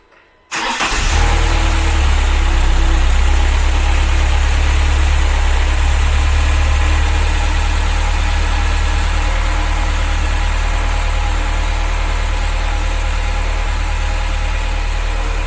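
A Ford Cortina Mk3 engine, rebuilt after fire damage, cranks and catches abruptly, then settles into a loud, steady, rumbling idle that holds close and unbroken with no talk.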